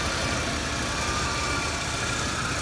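A 1982 Chrysler Imperial with electronic fuel injection idles close by after sitting 27 years, a loud, steady, even engine rumble with no talk over it.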